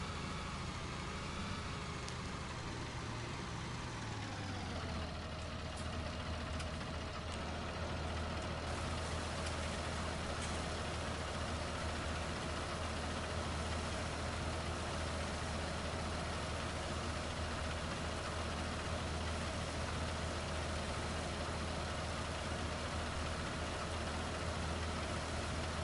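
A tractor in a farming video game idles with a constant low diesel drone, steady and close, holding the same even rumble from start to finish with no talk.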